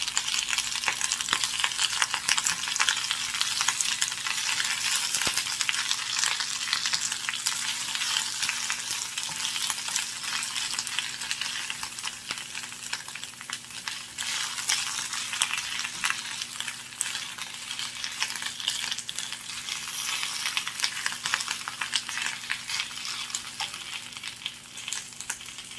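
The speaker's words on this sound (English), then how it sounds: "the oil is hot. You can see that it's smoking a little bit. So we're going to take our spinach and just toss it in there." Spinach tossed into hot, lightly smoking oil for a spinach and mushroom frittata, giving a steady, loud, dense sizzle and crackle with stirring that carries on unbroken throughout, no voices.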